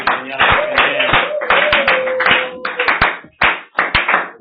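Congregation clapping in acclamation at a French-speaking church service, rhythmic sharp hand claps throughout under a sustained sung or spoken voice, fairly loud and continuous.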